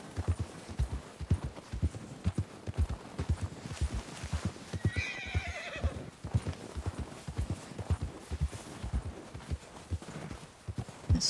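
A horse in the Red Dead Redemption 2 video game trudges through snow, with steady, close hoofbeats thudding rhythmically and a brief neigh rising over them midway.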